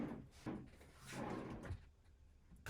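A drawer on double extension slides being opened and closed, soft rolling runs of the runners with light knocks and thumps at the ends of travel, quiet and close with no talking.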